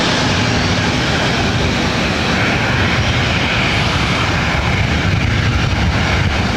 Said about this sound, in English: Next arrival is Singapore Flight 12 coming in from Tokyo Narita